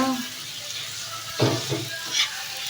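Tomatoes and chillies frying in a pan, a constant moderate sizzle with a couple of louder spattering bursts, while a voice talks faintly nearby.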